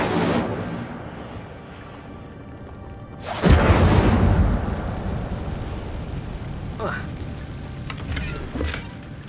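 Incendio fire spell cast in Hogwarts Legacy, a sudden whooshing burst of flame after a quiet stretch, then a crackling, sizzling fade with scattered smaller pops as a voice speaks.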